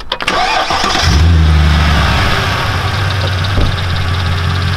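Mercedes AMG car engine starting up after a battery replacement: a starter crank, then the engine catches with a loud rumble and settles into a steady, close-miked idle.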